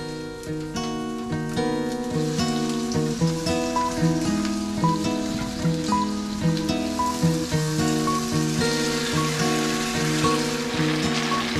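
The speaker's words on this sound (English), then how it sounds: "I'm reheating the rice, and yeah, I'm just going to add some onion and tomato, and then I'll put it all together." Leftover rice sizzles steadily in a pan with onion and tomato, a loud continuous hiss running through the whole stretch with steady tonal sounds layered beneath it.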